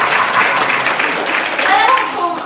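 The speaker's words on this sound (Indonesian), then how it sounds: "Tepuk tangan dong." Audience applause at a motivational talk, a dense, steady patter of many clapping hands filling the whole stretch at moderate loudness, with murmured voices mixed in and no clear pauses.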